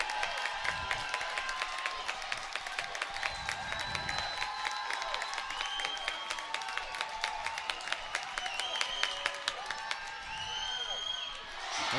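High school boys' basketball crowd in a gym applauding and cheering with fans on their feet, steady dense clapping mixed with whoops and shrill squeaks and whistles, continuous throughout.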